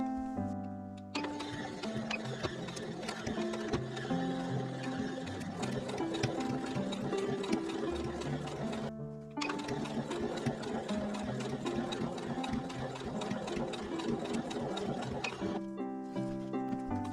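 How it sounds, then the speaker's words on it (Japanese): A sewing machine stitches a 7 mm seam through three layers of fabric for a men's smartphone pouch, giving a loud, close, rapid mechanical chatter that stops briefly twice before resuming. "ここを7ミリのところを縫っていきます"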